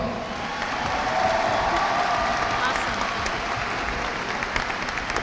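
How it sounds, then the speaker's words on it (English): Loud, sustained crowd applause at a 2022 high school graduation ceremony for the valedictorian, continuous clapping with some cheering from a large audience. "Let's give our top scholar a traditional Tiger round of applause"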